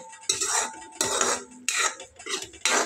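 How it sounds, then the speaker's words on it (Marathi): A spoon stirs masala paste with tomato in a pan for a spicy Kolhapuri dish. About five close, scraping strokes with metallic clinks repeat at a steady rhythm, with no talking. "व्यवस्थित मिक्स करून घ्यायचं आहे तेल सुटेपर्यंत या वाटणाला."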